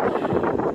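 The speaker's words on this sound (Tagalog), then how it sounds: "Mahangin" Wind gusts across an open tulip field in the Netherlands, rumbling loudly and steadily against the microphone for under a second with no voices.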